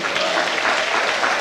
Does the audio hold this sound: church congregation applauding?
yes